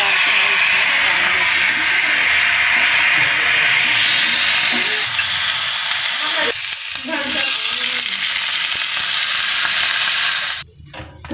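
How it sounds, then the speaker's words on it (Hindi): Dal and peanuts frying in oil, a loud, dense, continuous hiss and sizzle close up, with a few scraping stirs and short interruptions toward the end. "ये दाल और मूंगफली तल चुकी है, तो इसे हम 10 मिनट तक ऐसे ही चलाते गए हैं"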